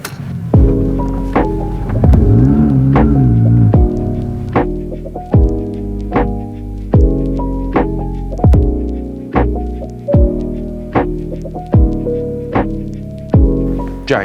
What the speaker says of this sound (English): let's get it inside, get it up on the ramp